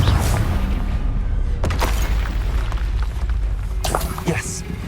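Confringo fire spell blasts from a duel in Hogwarts Legacy, two sharp booming bursts with rumbling tails over a continuous game soundscape, with faint speech under it.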